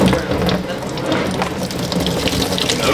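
Liquid drains out of a Toyota FJ40 radiator, a steady splashing, gurgling stream that stays close and fairly loud throughout, with faint clicks mixed in.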